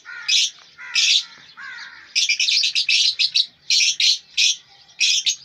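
Lovebirds in a breeding cage give repeated sharp chirps and squawky calls in quick bursts, close and fairly loud, with brief pauses between calls and no talking.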